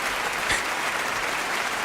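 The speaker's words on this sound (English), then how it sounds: "Double up on those claps." Layered clapping sound effect on a radio show: a dense, steady wash of many hands applauding at once, loud and sustained, with no voices over it.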